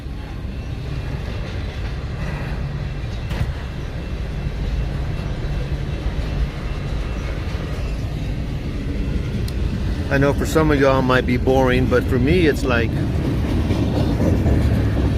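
Freight train with four locomotives, two at the front and two more, passing close by a window on a Colorado road trip; a steady low rumble runs throughout while someone talks over it, with horn-like tones rising near the end.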